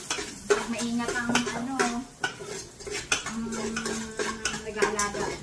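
Garlic sautéing in an old pot, with repeated metallic scrapes and clinks of a utensil against the pot over a light sizzle, close and fairly busy.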